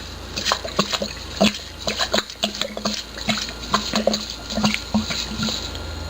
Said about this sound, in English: we're going to get our first bottle of Everclear, and this is a 750 milliliter, and we're going to pour that in there.